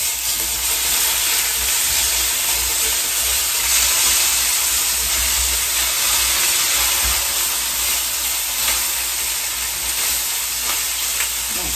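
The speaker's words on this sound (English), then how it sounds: "as the meatballs are cooking" Meatballs sizzling and frying steadily in olive oil in a pan at a home stove, a dense continuous hiss close by with occasional light stirring, and no talking.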